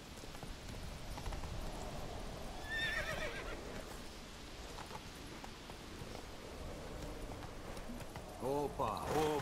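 A horse in the video game The Witcher 3 neighs briefly mid-stretch and again near the end with a louder whinny, over steady ambient game noise and faint hoofbeats, while people talk throughout.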